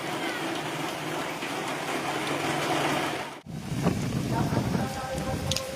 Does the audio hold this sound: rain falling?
yes